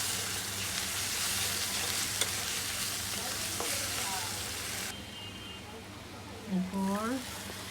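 Fish with chillies and onion fries in oil, a steady sizzle with stirring scrapes through most of the stretch, then it quietens while a voice talks near the end.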